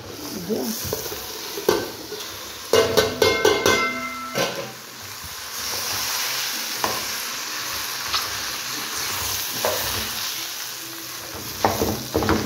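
Rice tipped into a hot pan crackles and sizzles, with bursts of metal clanks and scraping from utensils against the pan, close by and with no talking.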